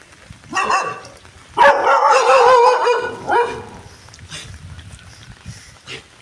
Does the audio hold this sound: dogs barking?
yes